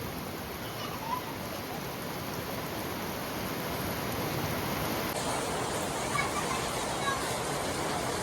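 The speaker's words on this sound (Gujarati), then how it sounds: "જોરદાર વરસાદ આવે છે" Heavy rain pours down in a dense, even hiss that stays loud and unbroken, with no pause or letup.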